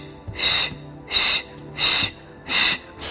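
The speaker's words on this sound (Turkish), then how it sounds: "Burada güzel bir nefes alıyorum." Deep breathing during an exercise routine, four long, loud breaths drawn at an even pace about a second apart, each a breathy hiss with short pauses between, heard alone and close.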